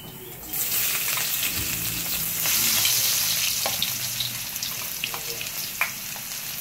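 Garlic frying in a pan gives a loud, bright sizzle that starts suddenly, with scattered crackles and pops throughout.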